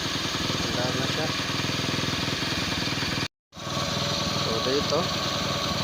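A Kawasaki Bajaj CT 100 motorcycle engine idles steadily and close by after restarting, fitted with a new CDI after stalling problems; someone talks over the running engine, and the sound cuts out briefly midway.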